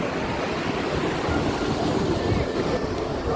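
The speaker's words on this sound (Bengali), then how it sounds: "দেখো এখানে আরও ঢেউ আছে" Sea waves surge and wash steadily at Malpe beach in Udupi, a continuous broadband roar mixed with wind buffeting the microphone, while a person talks over it now and then.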